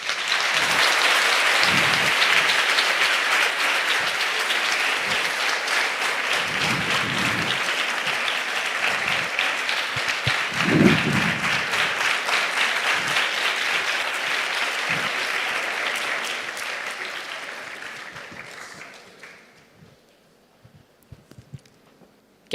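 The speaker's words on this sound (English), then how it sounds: "Can we once again give a big round of applause to Adityan for that insightful talk?" Sustained applause from an audience after a student TED-Ed talk, dense steady clapping for about eighteen seconds before fading out to a few scattered claps.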